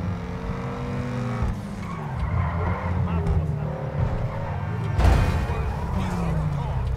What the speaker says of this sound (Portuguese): Mas cuidado, eu tô batendo esse carro demais.